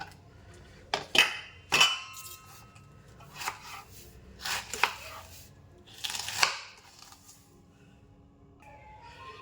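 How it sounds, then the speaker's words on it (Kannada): Vegetables being cut with a knife for a chapati side dish, several sharp separate chops and board knocks spaced irregularly, close and fairly quiet with no talk. "ಇನ್ನೂ ಸ್ವಲ್ಪ ಇದೆ ಅದನ್ನು ಕೂಡ ಕಟ್ ಮಾಡಬೇಕು"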